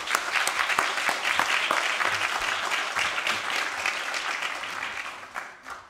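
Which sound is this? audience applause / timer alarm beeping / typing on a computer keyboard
audience applause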